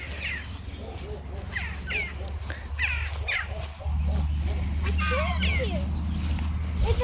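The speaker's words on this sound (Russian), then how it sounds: "Чайки в гости прилетают." Gulls calling with repeated squawking cries as they fly in over a wildlife rehabilitation center, the calls scattered and overlapping, set against a steady low hum and background chatter.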